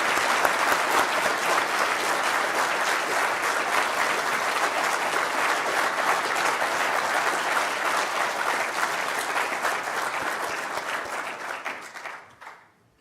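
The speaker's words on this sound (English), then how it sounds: "through a round of applause." Sustained applause fills a university graduation ceremony for electrical engineering graduates in Liverpool, a dense crowd clapping steadily for about twelve seconds before tapering off abruptly at the end.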